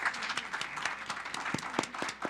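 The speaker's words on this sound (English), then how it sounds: "Give her a big round of applause." A scattered round of applause rises from a modest audience at a community funding presentation, individual claps distinct and fairly close, moderate in volume and without talk.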